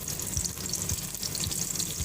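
Eggplant frying in a pan, a close, steady sizzle and crackle with light bubbling pops running continuously, no talking.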